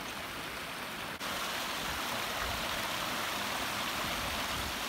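A steady, full rush of a mountain stream at Summerland Camp on the Wonderland Trail, constant and close, with no voices; one faint click breaks the even roar.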